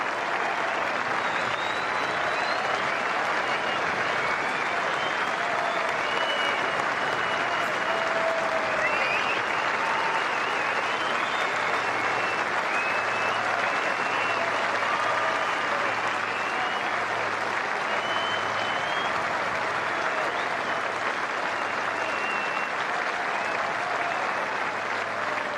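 A large golf gallery at The Open Championship gives sustained, even applause for Masters champion Rafa, a dense wash of clapping that rolls on unbroken with distant crowd murmur.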